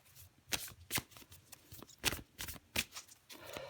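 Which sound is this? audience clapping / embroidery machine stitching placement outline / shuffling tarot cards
shuffling tarot cards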